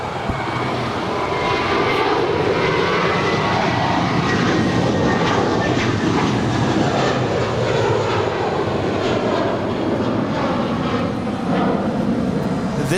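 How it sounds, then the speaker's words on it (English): An American Airlines Airbus A321 jet departing LAX for Boston roars loudly and steadily throughout, a powerful sustained engine rumble and hiss with no talking. "This departure is American 1423 departing to Boston on an A321"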